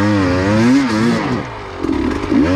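Enduro motorcycle engine revving hard during off-road training, a loud continuous mid-pitched drone with rising and falling revs throughout, close by and with no talking.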